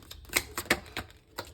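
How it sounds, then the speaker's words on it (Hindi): Tarot cards shuffled close by, giving several quick, crisp papery bursts in an irregular rhythm, with no talking. "अब चलिए यहाँ पे शफल करते हैं कुछ टैरो कार्ड्स।"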